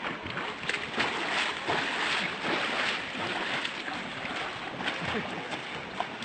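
Rushing water and wind noise roar continuously during an inner tube ride down a waterfall at a farm, with no clear voices over the steady outdoor wash.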